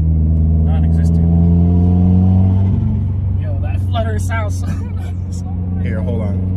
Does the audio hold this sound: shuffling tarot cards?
no